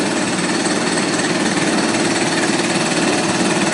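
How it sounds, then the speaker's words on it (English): A machine cuts a leftover newsprint roll down to a narrower width for a press, giving a loud, steady, continuous mechanical roar with a fast rattling texture and no pauses. "this machine is taking it down to a size that we can use on our press"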